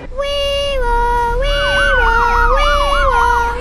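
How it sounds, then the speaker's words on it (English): A loud, close fire truck siren blares continuously, starting with a steady wail and then switching to a rapid up-and-down yelp. "going for a ride in the fire truck with the sirens blaring"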